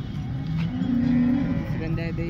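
A cow moos once, close and drawn out, at the Modnimb livestock market, with faint bustle of the market behind it.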